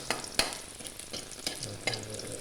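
Garlic and onion fry in a pan until light brown, a steady crackling sizzle with a few sharp clinks and scrapes of a utensil stirring.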